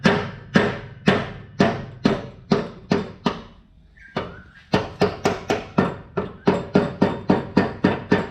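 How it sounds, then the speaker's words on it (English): A rubber hammer knocks a lawn mower spindle shaft out in quick, regular thuds, pausing once briefly before a faster run of blows, close up and fairly loud. "Rubber hammer, just knock that out."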